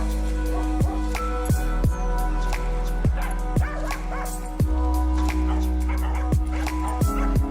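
Dogs in an animal shelter in Warsaw bark repeatedly at close range, sharp yips and bow-wows arriving every second or so over a steady low hum and faint background chatter.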